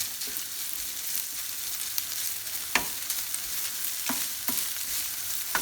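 Salmon sizzles and sautés in a hot pan with a steady bright hiss, broken by a few sharp spatters and the scrape of stirring, no voices over it.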